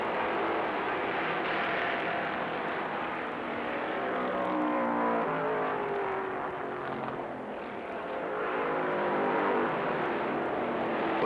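A stock race car's engine roars steadily as it drives off the turn toward the pits with a bad right side tire, a loud, continuous broadband drone with a slight dip and rise in pitch, no talking.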